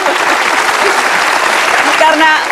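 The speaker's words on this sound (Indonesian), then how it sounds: "kita kasih tepuk tangan dong untuk keduanya" A television studio audience applauds loudly and steadily, with a voice briefly audible near the end.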